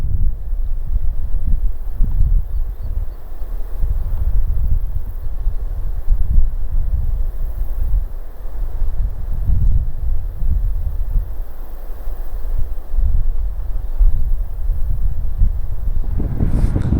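Wind gusts buffet the microphone at the edge of a Florida pond on a wildlife management area, a steady low rumble with surging, rustling bursts that carries on throughout with no talking.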